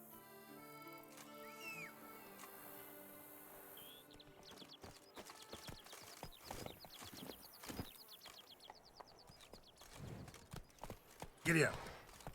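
Horse hooves clip-clop in rhythmic bursts in The Witcher 3, rising from the midpoint over game music and speech, with a louder thump near the end.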